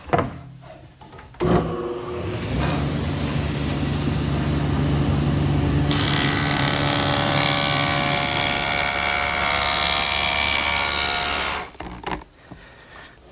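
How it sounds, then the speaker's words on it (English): A table saw fitted with a stacked dado head cutter works a wood panel for an outdoor lidded bench. The motor spins up with a loud whine, the blade cuts through the wood with a harsher roar, then it winds down and stops. "my stacked dado head cutter, which is set up in the table saw"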